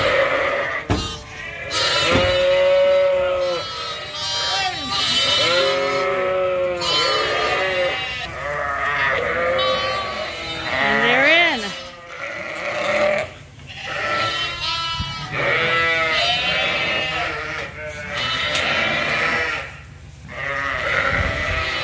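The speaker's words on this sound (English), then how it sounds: "And here come the lambs." Lambs on a working sheep farm bleat over and over in loud, overlapping calls close by, with only brief pauses between them.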